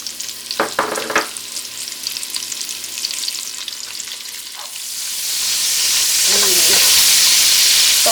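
Chopped onion with red and green peppers hitting a hot pan for Jamaican seasoned rice, a few clinks and scrapes followed by a loud, steady sizzle that swells and holds close by.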